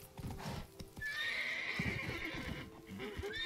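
A wild horse in the Witcher 3 video game neighs with a loud, drawn-out whinny over snorts and a few hoof clops, heard up close and alone.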